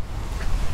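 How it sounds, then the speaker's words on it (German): Strong gusting wind buffets the microphone outdoors on the Rheinsteig trail along the Rhine, a loud low rumble that swells and dips, alone with no talking. "Aber es ist sehr, sehr windig hier auf jeden Fall."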